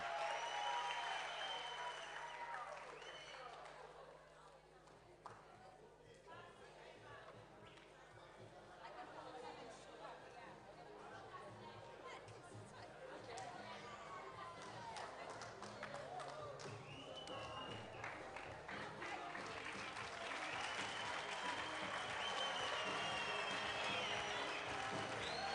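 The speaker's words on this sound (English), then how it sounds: "A round of applause for Kamu." A summit audience at an agri-entrepreneurship township event gives a round of applause for panel speakers, moderately distant clapping mixed with crowd chatter and voices throughout.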